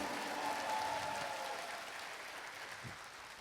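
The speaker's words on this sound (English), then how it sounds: "Let's give a big round of applause for Mr. Chetan Bhagat." A seated audience at a CII Young Indians talk in Mizoram gives a round of applause, a soft, steady wash of clapping heard from a distance that gradually tapers off.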